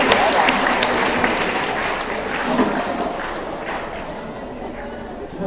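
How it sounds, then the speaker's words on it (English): An audience at an escape-artist show applauds four volunteers, warm, full clapping that starts strong and gradually thins out, with voices talking over it. "let's give our 4 volunteers a nice warm round of applause"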